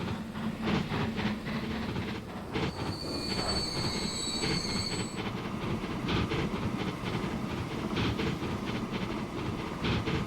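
A train rolls out of a depot in the video game Transport Fever 2, with continuous rumbling wheels, rhythmic clatter and a high metallic squeal rising partway through, steady and fairly loud throughout.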